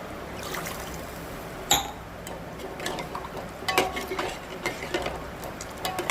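Tamarind juice added to onion pulusu frying in a pan and stirred in: a sharp splash-like hit, then a run of light clicking scrapes and knocks over a steady, low hiss.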